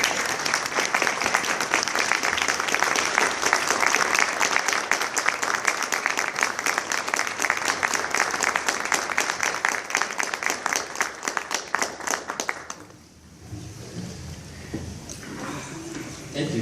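Loud, sustained applause from a standing audience at a ceremony honoring Canadian veterans of Afghanistan, dense clapping running about thirteen seconds before dropping away to quieter room sound and speech.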